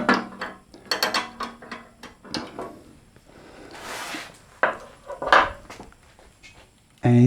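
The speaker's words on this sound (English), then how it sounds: "Literally undo the locking nut." Locking nut on the table adjustment of a Sip 01366 bandsaw being undone by hand, a series of short metallic clicks and scrapes close by, with a hiss in the middle and a louder clunk at the end.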